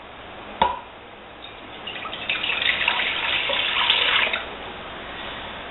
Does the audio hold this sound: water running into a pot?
yes